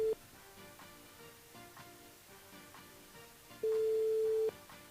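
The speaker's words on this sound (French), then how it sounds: "Et ça sonne." During a radio call-in show, an outgoing telephone call rings on the line: a steady electronic ring tone sounds briefly at the start, then again in a longer burst, over faint background music with no voices.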